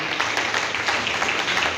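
Hall audience at a school ceremony in Dhamtari applauding to honour teachers, a brief burst of dense, even clapping from many hands.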